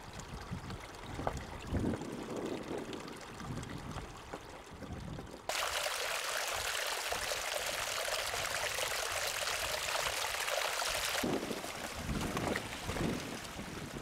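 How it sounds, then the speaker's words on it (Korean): Glacial meltwater running through crevasses on Matanuska Glacier in Alaska, a continuous rushing trickle with a stretch of louder wind-like hiss in the middle, steady and moderately close, with no voices. "여름이 되면 빙하 녹은 물이 크레바스 사이로 냇물처럼 흘러간다."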